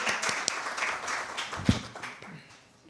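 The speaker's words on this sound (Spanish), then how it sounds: "Bienvenido Olimpo, el público lo recibe con un aplauso, después lo abrazamos." An audience gives quiet, scattered applause in a hall to welcome a speaker, soft and a little distant, tapering off toward the end.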